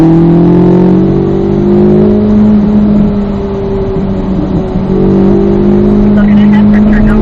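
A car driving on a race track, its engine holding a steady loud drone heard from inside the cabin, pitch rising and falling slightly through a turn, with someone talking over it.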